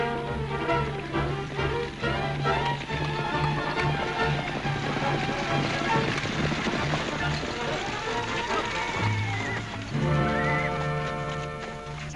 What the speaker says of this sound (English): Sounded like a lot more horses to me than just one team.